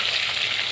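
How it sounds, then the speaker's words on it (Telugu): Chopped tomato fries in butter and oil in a pan for a paneer curry, giving a steady bright hiss of sizzling that runs unbroken through a brief moment. "ఆ టమాటా నీరంతా ఇంకిపోయే వరకు వేయించుకోవాలి"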